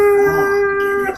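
Dog in the 2007 TMNT movie giving a single drawn-out howl, loud and close, steady in pitch before breaking off at the end.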